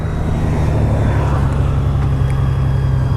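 Steady, loud engine drone of a 2014 Honda Valkyrie motorcycle at speed on a test drive, with continuous wind rush and no break in the throttle.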